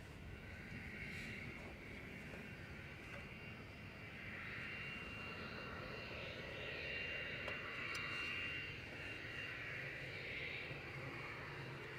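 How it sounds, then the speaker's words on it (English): A small private jet and a TUI Dreamliner taxiing at Manchester Airport, a faint, distant, steady engine whine and rumble that swells slightly toward the end, with no talk. "This little private jet about to head out. And we've also got TUI Dreamliner coming out."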